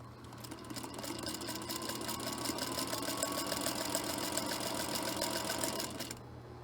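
A sewing machine runs steadily while stitching quilt pieces with a 1/4 inch seam, a close, even motor whir and rapid needle chatter that stops abruptly near the end.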